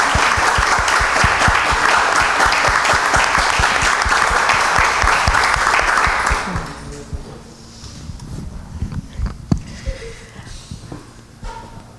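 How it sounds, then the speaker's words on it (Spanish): Audience applause for a viola player at an evening music event in a library, loud and steady for about six seconds, then fading into scattered claps and quiet room noise. "así que dobles de aplauso para ella,"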